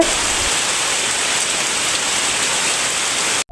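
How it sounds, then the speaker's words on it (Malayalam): Heavy rain pours down outdoors in the afternoon as a loud, unbroken wash of steady hiss close by, which cuts off abruptly right at the end with a brief tone. "മഴ പുറത്ത് നല്ല അടിപൊളി തകർക്കലാണ്"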